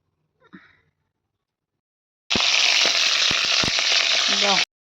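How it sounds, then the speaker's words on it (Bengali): Cauliflower pieces frying in oil in a pan, a loud, dense, continuous sizzle that starts abruptly after a brief quiet breath-like sound, with a few crackles and pops, close by. "এদিকে মা ফুলকপিটা ভাজতে দিয়েও দিয়েছে"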